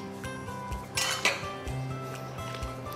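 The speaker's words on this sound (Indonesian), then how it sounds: "Jadi bumbunya dimasukkan ke wajan dulu ya, ditumis dulu." Spice paste for rendang and gulai dropped into a wok to sauté, with metallic clinks and scraping of a utensil against the pan over a steady sizzle and faint background music.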